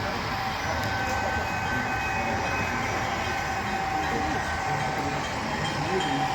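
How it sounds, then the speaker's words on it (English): A New Haven model train runs on a model railroad layout, giving a steady, continuous rumble and whir under a busy room's background noise. "There's our New Haven train again."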